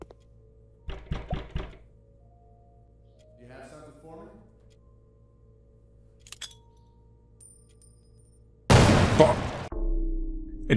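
A grenade goes off in a horror puzzle game set in a bathroom with a tentacle: a loud, sudden blast near the end that keeps rumbling to the close, after a few sharp knocks and some quiet game sounds.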